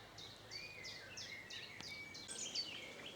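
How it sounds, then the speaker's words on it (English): Faint birdsong from chiffchaffs and a song thrush among apple trees outdoors, a series of repeated high chirping phrases, distant and quiet over soft background hiss. "a very pleasant couple of minutes listening to the chiff-chaffs and the song thrush"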